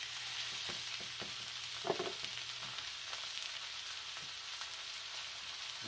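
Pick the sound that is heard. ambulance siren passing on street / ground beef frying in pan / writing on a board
ground beef frying in pan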